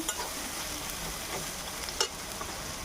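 Banana flower stirred with salt and turmeric in a pan, a steady soft scraping and faint sizzle running throughout, with one brief sharper clack near the end.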